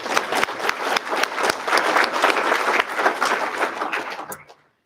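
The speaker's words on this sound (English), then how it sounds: "We hope that give him a round of applause." An audience gives Dr. Burns a round of applause at a district address, a loud, dense burst of many hands clapping that holds steady, then fades out quickly at the end.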